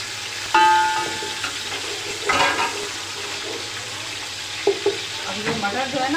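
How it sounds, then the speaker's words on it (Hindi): Garlic and ginger paste is added to hot oil and sizzles loudly, a dense continuous frying hiss broken by a few clinks and stirring scrapes in a home kitchen. "ऑयल हमारा गर्म हो गया, इसमें हम डालेंगे लहसुन"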